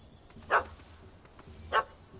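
A dog in The Witcher video game gives two short, fairly faint barks about a second apart over a low ambient background.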